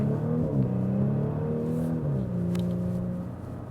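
A 354 hp Audi S4 Avant V6 with all-wheel drive accelerates on the Autobahn, a steady engine drone climbing smoothly in pitch, heard from inside the cabin with no talk.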